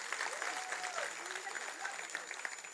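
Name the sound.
audience applause for teachers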